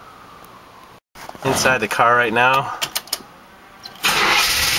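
A 1972 Chevrolet Camaro RS engine cranks and fires up, settling into a loud, close idle, with someone talking over it inside the car.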